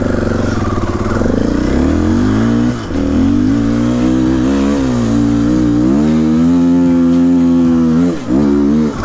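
An enduro motorcycle engine revs loudly and close, its pitch climbing and dipping through several throttle blips with a steady rumbling drone underneath.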